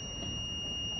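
A low battery warning buzzer on a student electronics project circuit sounds as a steady, unbroken electronic tone lasting the full second, fairly quiet and alone.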